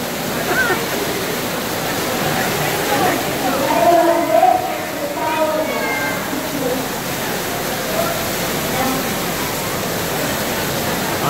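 Heavy rain pours steadily onto a beach at dusk, a dense, loud, unbroken hiss that fills the whole clip, with a voice faintly heard under it midway.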